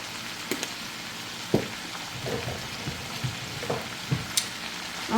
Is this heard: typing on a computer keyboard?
no